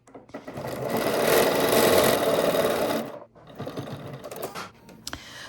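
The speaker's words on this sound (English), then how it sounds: "we're going to sew with our straight stitch our 5/8 of an inch seam allowance" A sewing machine runs a straight-stitch 5/8-inch seam in one steady, loud burst for about three seconds, then stops; softer handling noises and clicks follow.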